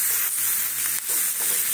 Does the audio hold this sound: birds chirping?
no